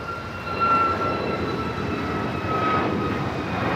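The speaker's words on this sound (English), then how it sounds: "This is United Airlines 2650 taking off to Tampa on the MAX 8." A United Airlines Boeing 737 MAX 8 taking off from Los Angeles LAX for Tampa gives a steady, fairly distant jet roar with a thin tonal whine, even in level throughout with no voices.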